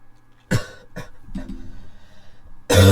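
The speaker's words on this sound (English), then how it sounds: "So yeah, the coughing is still there." Several sharp coughs from a person in a quiet indoor setting, three short bursts spaced about half a second apart followed by a louder, closer cough at the end, with no talking.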